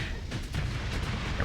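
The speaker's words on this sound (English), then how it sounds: "Torpedo away." A dense, booming blast from a torpedo launch in the Starsector space game, loud and sustained across the whole moment with rumbling low end and a couple of sharper bursts.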